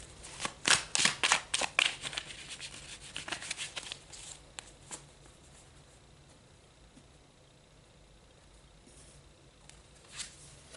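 Tarot cards being shuffled, a quick run of crisp riffling bursts near the start, then softer sliding and tapping, close and alone with no talking.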